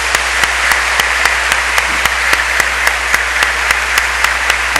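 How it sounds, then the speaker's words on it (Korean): A church congregation applauds to welcome the pastor's wife, producing steady, dense clapping that runs loud and unbroken throughout with no talk over it. "자, 박수로 한번 주세요."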